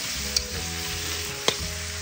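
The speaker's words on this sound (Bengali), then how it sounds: "গাজরটাকে একটু ভেজে নেব।" Carrots frying in a pan with fried cashews and raisins, a steady faint sizzle broken by two sharp spatula clicks as they are stirred, with no one speaking.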